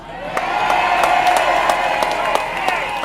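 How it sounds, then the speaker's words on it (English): A rally crowd at an independence campaign event cheers and claps loudly and steadily, with whoops and sharp individual claps cutting through the continuous roar. "Give a big cheer to my Uncle Shug."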